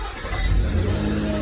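A 2006 Nissan Xterra engine catches and fires up after cranking, a brief close, loud rumble settling into a running idle.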